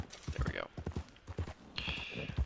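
A horse in Red Dead Redemption 2 clip-clops at a steady rhythm that sounds close and fairly loud, running under continuous talk.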